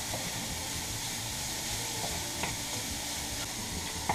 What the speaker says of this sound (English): we're gonna brown this up